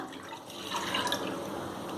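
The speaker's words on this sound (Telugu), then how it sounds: "ఒక గ్లాస్ ఆఫ్ వాటర్, దాన్ని ఒక బౌల్లో పోతాము" A glass of water is poured into a bowl while a pudina rasam is prepared. It makes a short, close, splashing pour that builds after a quiet start and then trickles steadily.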